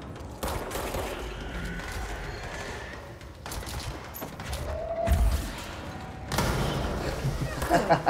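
In the video game Control, bursts of gunfire crackle in quick volleys through the scene, mixed with thuds and impacts, while a player talks over the shooting.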